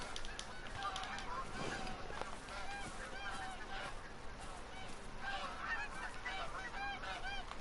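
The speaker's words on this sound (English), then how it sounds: "might as well have to scare the birds away. Yeah, Canada geese" Canada geese in theHunter: Call of the Wild honk repeatedly as a flock, with overlapping calls sustained throughout at a steady moderate level.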